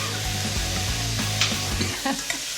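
Vegetable dahl with chilies sizzling in a pan while being stirred, close steady frying hiss with scraping stir strokes throughout.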